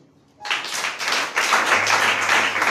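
A church congregation breaks into clapping after a short silence, its applause building into a dense, continuous, loud patter of many hands that stays close and sustained to the end, with no speech.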